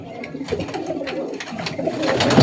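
A male pigeon from a Kolkata bloodline flock coos steadily at close range, with several birds' low rolling calls overlapping and rising toward the end.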